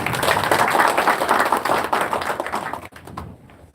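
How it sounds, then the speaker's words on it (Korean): Audience at a founding assembly of a Korean labor union federation claps in welcome of the newly elected chair; dense, steady applause fills most of the clip before tapering off near the end. "박수로 환영해 주십시오."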